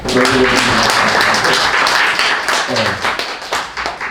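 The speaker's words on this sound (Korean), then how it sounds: "박수 한번 쳐주세요." Church congregation applauding for visiting missionaries, dense continuous clapping throughout with a voice speaking over it.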